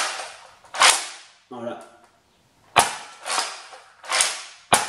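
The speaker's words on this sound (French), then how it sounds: "Il a un canon rotatif, en fait, l'avant, vous allez voir, je vais armer." A Nerf Rival Artemis XVII-3000 blaster with a rotating barrel is cocked several times, each pump giving a loud, sharp plastic clack followed by a ratcheting whir, with a short spoken word between strokes.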